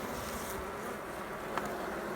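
Honey bees buzzing around a traditional log hive, a dense continuous drone of many insects close by, with a brief louder pass from a single bee near the end.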